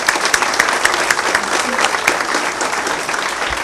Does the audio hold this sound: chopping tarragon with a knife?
no